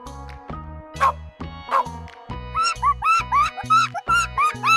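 A dog barks in a rapid series of yipping barks, loud and close, set over a bouncy, rhythmic music track.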